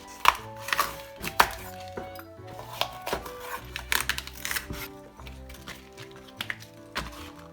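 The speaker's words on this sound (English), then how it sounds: "what first I'm gonna do is I'm gonna take this hard stem part off" A knife chops through hard vegetable stems on a cutting board in a home kitchen, giving a series of crisp, close taps and thuds at an irregular pace, with faint background tones between cuts.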